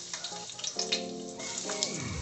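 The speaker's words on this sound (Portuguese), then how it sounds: "Fritar a cebola primeiro. Tá na cebolinha no azeite." Onion frying in olive oil gives a soft, steady sizzle with light crackles and pops. It sits fairly low in level beneath faint tonal background sounds, with no one speaking over it.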